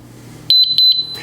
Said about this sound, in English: You press and hold that till you hear 2 beeps.